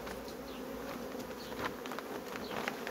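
Honeybees swarm around a hive in full nectar flow, a dense, steady buzzing drone that fills the whole stretch, close and even, with no voices.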